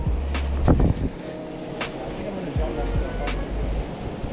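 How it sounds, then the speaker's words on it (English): Wind blusters outdoors on a Japanese island on a fishing trip, a loud rumbling gusty roar that buffets close to the microphone throughout. "I don't know if you can hear me over the wind"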